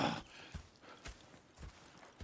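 Horse hooves clip-clop in Red Dead Redemption 2, four evenly spaced hoof hits at an unhurried walking pace, fairly close and distinct, with no talking.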